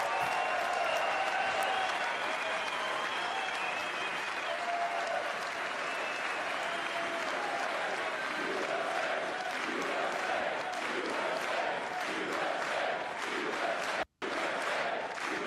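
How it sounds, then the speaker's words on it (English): Crowd at the State of the Union cheering and applauding in a long, sustained wave of dense clapping and shouts, loud and continuous, broken only by a brief cut near the end. "Oh my gosh, just them cheering."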